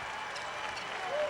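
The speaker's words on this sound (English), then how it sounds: "And this Cowboy crowd on their feet applauding that." An Oklahoma State Cowboys crowd at a 2004 NCAA Tournament basketball game in Kansas City stands and applauds, a steady, dense wash of clapping that continues the whole time.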